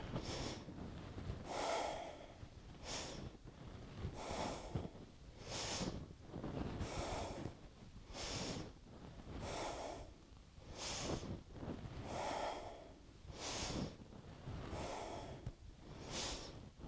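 Alternate nostril breathing during a short root chakra kriya practice, with steady cycles of close, airy inhales and exhales repeating about every one and a half seconds, loud and alone.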